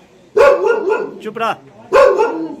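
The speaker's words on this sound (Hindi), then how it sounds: "देखियो ये दिल्ली से आयल कुत्ता कते खूंखार गिरी दिखा रहा है।" A dog barks loudly and close by in a few sharp, aggressive bursts with a whine between them, and someone briefly speaks over it.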